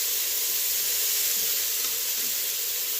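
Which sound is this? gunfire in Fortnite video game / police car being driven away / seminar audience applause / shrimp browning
shrimp browning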